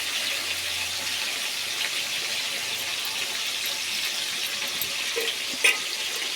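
Water runs from a tap in a steady, even hiss with a faint clink near the end, heard up close and alone without speech.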